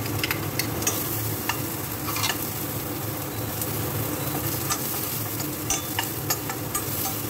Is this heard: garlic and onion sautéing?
yes